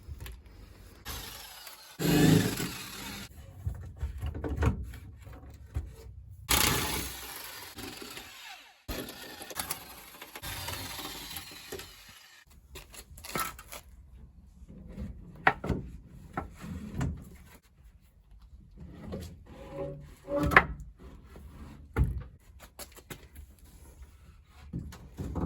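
Clunks, scrapes and knocks of a box being lifted out of a Chevy S10 pickup during engine work, a run of irregular close thuds and rattles with quieter gaps between them and no talking.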